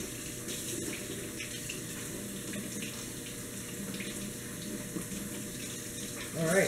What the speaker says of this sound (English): I'm gonna run it under cold water. Cold water to remove carbon dust.